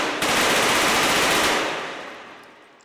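A MAC-11 submachine gun in a VR video game fires one loud, rapid continuous burst of about one and a half seconds. The fire then stops and a ringing tail fades out, with no voices present.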